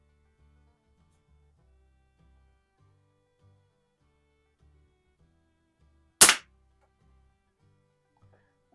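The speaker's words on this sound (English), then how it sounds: "let's see if we can hit that last paintball." One sharp shot from a Hawthorne M130 .22 caliber Crosman multi-pump pistol fired at a paintball target, a single crisp crack in otherwise quiet surroundings.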